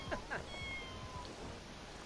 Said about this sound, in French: j'ai entendu le petit chat là miauler.